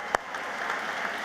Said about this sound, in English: Please join me again in applauding for our Merrimack Medal recipient